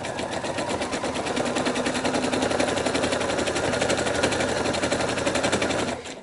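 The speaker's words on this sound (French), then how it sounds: "Je vais coudre tout le long en suivant le trait que j'ai tracé." A sewing machine stitches a quilted fabric pouch in one steady, fast, continuous mechanical rattle, loud and close, with the needle's rhythm unbroken until it slows and stops at the end.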